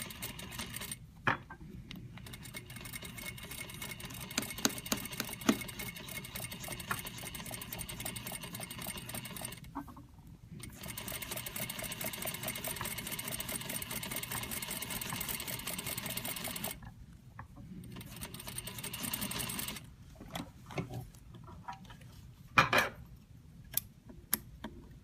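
A sewing machine stitches a lapped zipper at regular stitch length, a steady fast whirring rattle that runs in long stretches and stops briefly between passes, fairly quiet and close.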